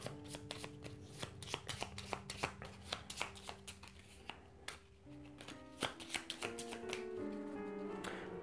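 Board game encounter cards being shuffled by hand, a quick series of crisp riffling flaps and taps close up, continuing for several seconds with a faint musical tone beneath.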